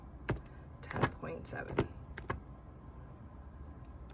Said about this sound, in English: And then I am gonna grab my keyboard.